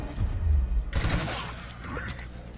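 Pistol shots ring out in the turn-based video game Gears Tactics, a sharp burst of gunfire cutting in just under a second in and then trailing into a decaying crackle and game ambience.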